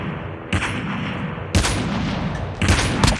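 Sniper rifle gunshots ring out in an online shooter game, three sharp loud blasts spaced about a second apart, each with a long booming tail over steady game ambience.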